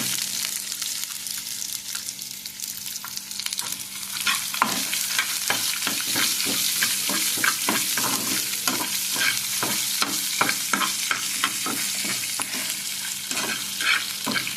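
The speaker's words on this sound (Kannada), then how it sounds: "ಸ್ವಲ್ಪ ಈರುಳ್ಳಿ ಹಾಕಿ ಫ್ರೈ ಮಾಡ್ತೀನಿ" Mustard seeds, cumin and onion frying in a pan, a steady loud sizzle under a rapid run of scraping stirring strokes that gets busier partway through, with no talk.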